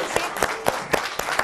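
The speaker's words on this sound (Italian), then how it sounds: "Va bene, basta, un applauso." Applause at a regional winter youth games event in Veneto, a modest group clapping in a few loose bursts with distinct, sparse hand claps rather than a dense roar.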